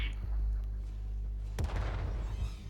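A French AMX self-propelled artillery gun in World of Tanks, a heavy low boom with a long rumbling tail, followed by a second sharp blast about a second and a half later.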